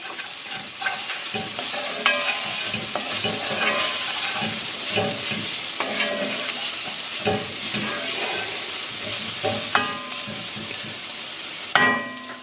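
Two tablespoons of fresh garlic fry in a pot for Hungarian goulash, a close, steady sizzle broken by repeated scraping clicks of a utensil stirring against the pot.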